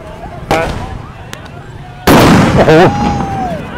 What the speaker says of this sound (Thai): มีการใช้กระสุนยางแล้วครับ